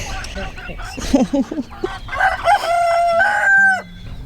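A rooster crows loudly and close by, a long drawn-out call following a few brief voices and clucks at the start.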